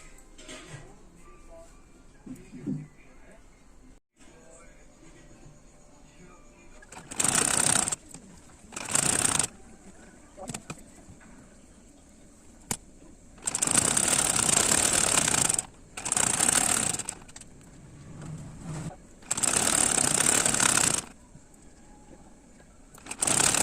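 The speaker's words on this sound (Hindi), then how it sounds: "तो ऐसे करके हम इसमें सिलाई देनी है।" Stitching a blouse, a sewing machine runs in several separate bursts of rapid mechanical whirring, loud and close, set between quieter stretches of handling sounds and faint background.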